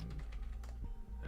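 Quick typing on a computer keyboard, a short run of soft clustered key taps under a steady low hum and some background voice.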